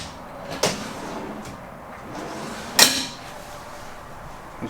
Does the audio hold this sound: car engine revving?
no